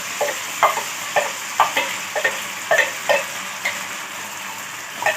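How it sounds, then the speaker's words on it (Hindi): Mung dal roasting in a little oil with a soft steady sizzle, as a spoon scrapes and taps against the pan in a loose, repeated rhythm, close by. "इस मूंग दाल को डाल करके भूनूंगी"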